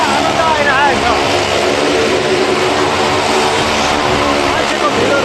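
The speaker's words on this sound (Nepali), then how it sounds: "आवाज ठुलो बाइकको एक्जस्ट आनन्द आइरहेको छ" A loud motorcycle exhaust roars steadily at the Jorethang Maghey Mela festival in Sikkim, with the dense, continuous engine rumble close by and crowd noise mixed in underneath.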